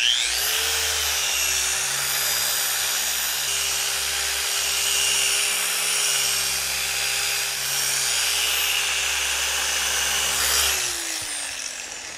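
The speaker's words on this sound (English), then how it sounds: "take the pressure off the polisher as we're getting into that groove and hope that it keeps spinning" A 3-inch car polisher buffs the paint of a Porsche 718 GT4, holding one loud, steady high-pitched whine near the microphone for the whole stretch before it winds down at the very end.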